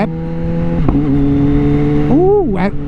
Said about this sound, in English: you hear that exhaust popping? It's cutting that ignition when it shifts.